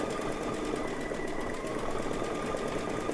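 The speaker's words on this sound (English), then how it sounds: "This is a beautiful satin stitch is what it's stitching out right now." An embroidery sewing machine stitches out a satin stitch in a steady, rapid mechanical whir with fine, even pulsing of the needle, fairly quiet and continuous with no talking.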